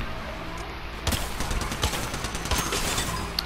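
Mozambique shotgun gunfire in the Apex Legends video game: a dense, continuous barrage of loud blasts, with several sharper reports cracking through a roaring wash of game noise.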